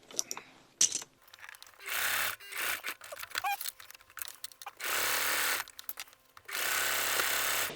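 A sewing machine stitches across the end of a fabric strap on a wheat bag cover, running in several short whirring bursts that alternate with quiet pauses and small clicks, heard up close.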